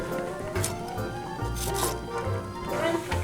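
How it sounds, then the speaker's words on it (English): A knife chops ingredients for chicken Alfredo soup on a cutting board, making a steady series of close, distinct thuds and taps. "I'm going to chop them a little bit here"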